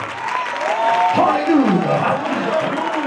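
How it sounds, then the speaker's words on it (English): A church congregation at a district council spring session claps and shouts together in a loud, continuous burst, voices cheering over dense clapping throughout. "clap your hands and shout"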